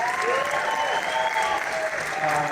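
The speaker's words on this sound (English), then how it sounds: "Let's give them a round of applause." Audience applauds at a movie premiere for the horror film Thanksgiving, a steady wash of crowd clapping with faint cheering tones over it, continuous through the whole stretch.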